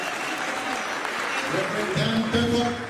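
A crowd at a meeting in Washington DC applauds the founder of Dunamis as he is called up for a ceremony, a continuous wash of clapping with voices and speech mixed in beneath it.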